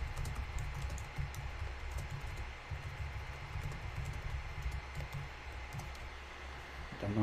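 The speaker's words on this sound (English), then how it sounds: "I'm just typing a missive for people in the chat." Quiet typing on a computer keyboard, a run of soft irregular key clicks over a low background hum, fairly faint and without talk.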